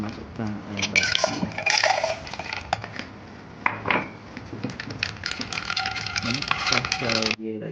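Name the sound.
ice cubes added to caramel milk drink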